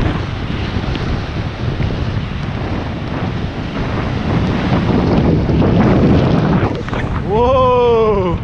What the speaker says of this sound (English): this is the other side of the island where they get all the wind.